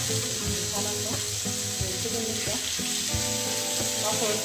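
A tomato and green chilli mixture cooking gently in a pan over low heat, a soft steady sizzle with faint bubbling and occasional light stirring scrapes, close and even throughout.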